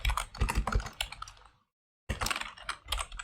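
Rapid typing on a computer keyboard while writing a commit message, a close, dense run of key clicks that stops for about half a second and then starts again.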